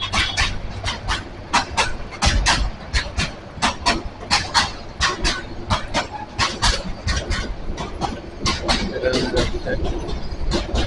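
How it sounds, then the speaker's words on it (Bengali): A Dhaka-to-Chattogram train rolls past close by with a rapid, steady clatter of wheels over rail joints, loud and continuous throughout. "চলতি পথে ট্রেনের দেখা পাইলাম"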